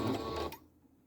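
Sewing machine briefly backstitching on a small doll bag, a short close mechanical whir of about half a second that cuts off into quiet.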